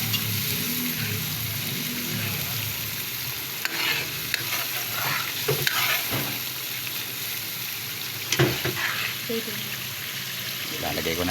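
Steady sizzle of garlic frying, with occasional scraping stirs of a utensil in a pan, close by, continuous throughout.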